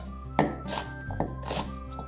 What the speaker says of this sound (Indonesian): Bawang putih potong kasar.